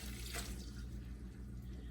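Hot coleslaw dressing is poured over shredded cabbage, giving a steady, close liquid splashing and trickling that runs without a break for about two seconds, with no talking.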